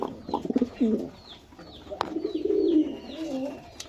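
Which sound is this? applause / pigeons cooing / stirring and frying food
pigeons cooing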